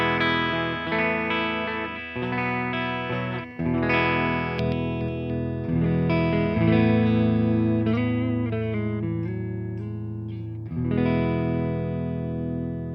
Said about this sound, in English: And I haven't put it through my Fender Deluxe Reverb yet, so let's do that.